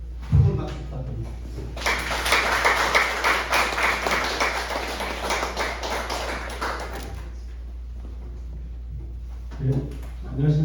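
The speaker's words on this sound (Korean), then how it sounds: "큰 박수 부탁드립니다." Audience applause at a breakfast forum lecture, a steady burst of clapping from a seated crowd lasting several seconds, with a voice speaking briefly before and after.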